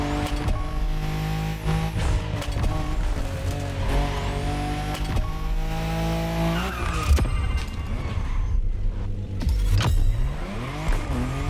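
A Mazda RX-7 drifts in the racing game The Crew Motorfest, its engine roaring loud and continuous as tires squeal through long slides, with revs swelling and dropping across the run.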